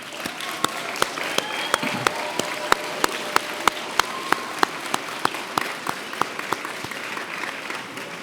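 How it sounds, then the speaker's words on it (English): A graduation commencement crowd claps in sustained applause, a steady wash of many hands punctuated by sharp nearby individual claps at a regular pace. "give a round of applause to those who have helped you be here today"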